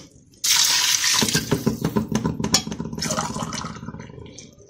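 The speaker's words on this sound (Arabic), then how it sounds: "دي كوبايه مغسوله، عليها 3 كوبايات ميه سخنه" Hot water is poured from a cup into a pot of rice, a steady splashing gush that starts abruptly and gradually thins out, close and alone.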